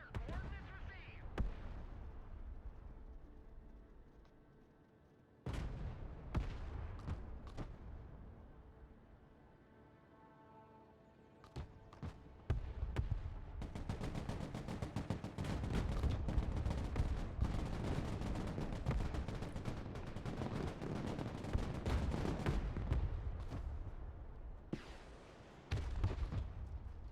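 Artillery fire mission in the real-time war game Broken Arrow, rolling booms and rapid gunfire blasts that build into a dense barrage, with voices heard at points.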